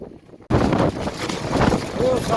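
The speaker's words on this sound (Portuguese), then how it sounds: "Olha que ventania que vem." Strong outdoor wind blasts loudly into the microphone at a riverside fishing spot. It rushes and gusts continuously after a quiet start, with a faint voice under it.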